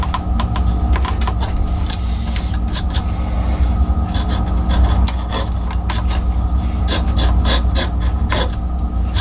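A wood gouge cuts an oak leaf carving, giving rapid dry scraping and rasping strokes with sharp crisp bursts, close and loud over a constant low hum, with no speech.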